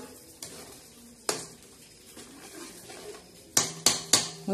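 A spoon stirs black masala chicken curry in a metal pot, giving soft scraping and several sharp clinks against the rim, with a cluster of quick taps near the end and faint sizzling underneath.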